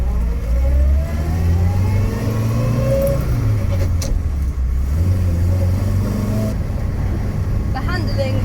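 An Austin A40 Farina's engine hums loud and close from inside while driving, its low drone rising and falling as the car accelerates and eases off.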